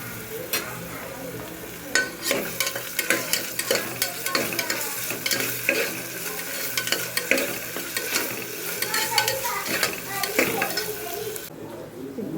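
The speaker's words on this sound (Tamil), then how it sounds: "வெங்காயம் வந்து வதங்கிட்டு இருக்கு ஃப்ரெண்ட்ஸ்" Onions and ginger-garlic paste sauté in a pan for tomato rice, a continuous sizzle punctuated by frequent sharp stirring clinks and scrapes of a spoon against the pan, with a voice speaking faintly at times.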